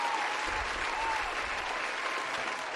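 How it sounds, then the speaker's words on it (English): Steady, continuous applause from a crowd, a dense wash of many hands clapping at an even level throughout, with a faint voice briefly underneath. "I got hand claps"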